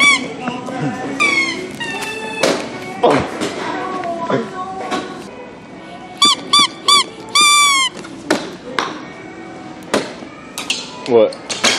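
A squeaky toy found in a Walmart store is squeezed several times in quick succession, giving loud, high, rising squeaks in short bursts amid shuffling, tapping and people talking nearby.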